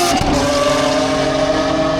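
A Lamborghini Aventador SVJ roars loudly at a race track trackday, its engine holding a steady high-revving tone with strong harmonics for about two seconds, close and dominant without talk.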